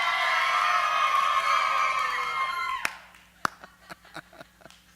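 Audience cheering loudly for option two in a group vote, a dense roar of shouts and whoops that holds for a few seconds then breaks off into scattered claps and calls.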